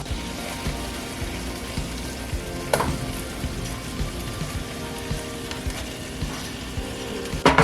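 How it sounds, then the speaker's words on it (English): Four T-bone steaks put back into a hot oiled pan sizzle and crackle steadily at close range, with a few louder pops and clanks from the pan throughout. "now what we're going to do is add the steaks back in the pan"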